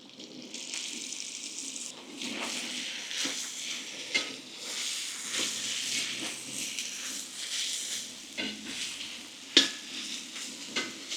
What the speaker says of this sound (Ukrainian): поки воно це все діло жариться, ми туди же досипаємо нашу прекрасну цибульку